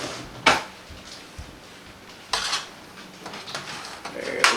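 Metal spoon and cutlery clatter as a utensil is fetched in a kitchen while preparing pork belly bites with a rub, a few sharp clinks and knocks spaced over a quiet room.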